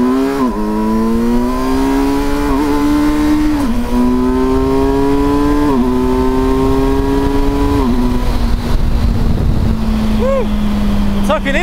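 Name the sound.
adventure motorcycle being ridden and accelerating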